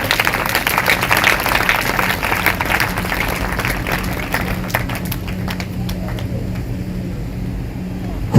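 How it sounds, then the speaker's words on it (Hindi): A church congregation at a Sunday sermon claps loudly and steadily for several seconds, dense hand claps filling the hall, with some rustle and faint voices under it before the clapping thins out. "अगर आई है तो जोर से तालियां बजाएं।"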